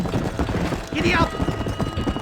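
Hooves clip-clop in a rapid galloping rhythm as a horse runs in Red Dead Redemption, with a shout and a brief whinny-like cry rising over the hoofbeats.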